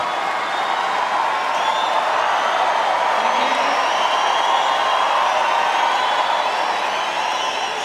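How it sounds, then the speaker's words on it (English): Home crowd at a professional tennis match in Australia roaring and cheering at match point, a sustained, loud wall of noise that holds steady throughout without any clear speech on top. "Listen to the crowd behind their champ."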